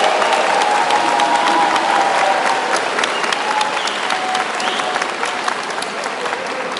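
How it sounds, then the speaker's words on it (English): Sustained applause from a large convocation crowd for new social work graduates, steady and loud throughout with dense clapping and a few scattered cheers. "one more loud round of recognition applause to all of our new graduates today."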